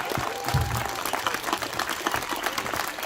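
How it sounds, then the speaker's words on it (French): Audience applause for a speaker, dense continuous clapping from a crowd, fairly close and steady throughout, with a brief voice heard underneath. "je pense qu'on peut vraiment la féliciter et l'applaudir une deuxième fois"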